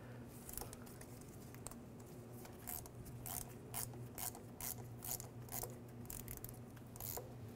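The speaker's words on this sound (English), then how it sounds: "Now use an 8 millimeter socket." An 8 mm socket on a hand ratchet clicks steadily in short bursts while a nut comes off a 2005-2010 Chevy Cobalt during starter replacement, with a faint hum underneath and no talking.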